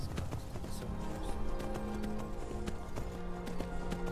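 Rapid horse hoofbeats clatter in a steady galloping rhythm in the video game Skyrim, with a faint background tone and a brief low voice near the start.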